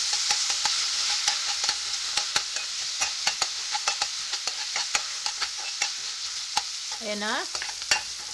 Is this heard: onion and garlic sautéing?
yes